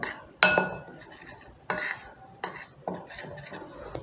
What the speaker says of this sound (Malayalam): ഇതൊന്ന് മിക്സ് ചെയ്യാം